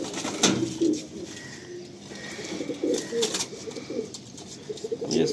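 Pigeons in a loft coo in low, throaty repeated phrases, several birds overlapping at close range, with a brief flutter and soft background rustle.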